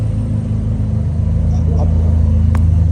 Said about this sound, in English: And we're gonna rev all of the cars right now